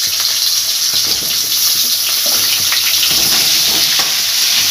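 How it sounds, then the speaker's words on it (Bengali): Diced potatoes fry in hot oil for a Bengali jackfruit and prawn dish, giving a steady, close, loud sizzle with a dense crackling hiss that holds evenly throughout, with no voices. "আলুগুলো এবার ভেজে নেব। তেল গরম হয়ে গেছে, আলুগুলো লাল লাল করে ভাজতে হবে।"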